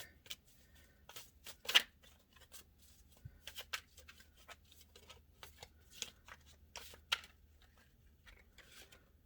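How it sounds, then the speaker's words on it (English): Tarot cards being shuffled and handled during a reading, heard as scattered light papery flicks, slides and snaps at irregular intervals, one sharper slap standing out, close and quiet with no talking. "Try not to drop so many cards on the floor here."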